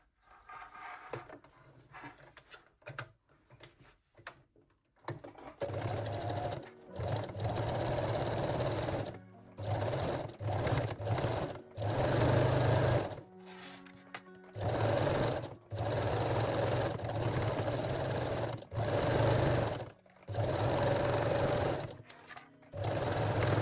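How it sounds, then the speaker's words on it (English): A sewing machine runs a zigzag stitch along a waistline, attaching fold over elastic in repeated bursts of steady mechanical whirring, each lasting one to several seconds with short pauses between, close and clear and without speech. "fold your fold over elastic and sew it along the waistline with a zigzag stitch"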